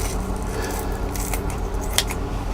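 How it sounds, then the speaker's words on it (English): Kitchen scissors snip through a thick raw chicken breast, a short close run of soft, wet cutting sounds over a steady background hum. "I'm just going to cut this"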